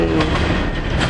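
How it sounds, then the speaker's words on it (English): A subway train rolls into the platform with a loud, steady rumble and rattle of wheels, close by and filling the whole moment without voices. "And here comes our train."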